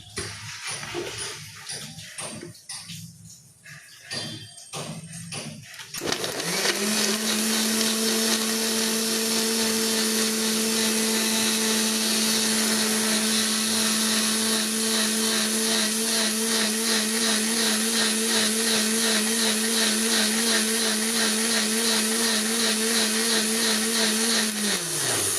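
A mixer grinder blending food ingredients starts up after a few quiet seconds of faint handling noise, then whirs loudly and steadily at a constant high pitch until it winds down at the end.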